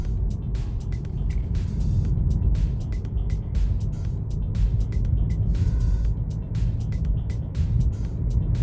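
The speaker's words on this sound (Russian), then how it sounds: "Едем, тест-драйв испытываем как машина едет" A 2014 Honda Vezel with a robotic gearbox on a test drive after a transmission fluid change: steady engine and road rumble continues throughout, heard from inside the cabin with no talk.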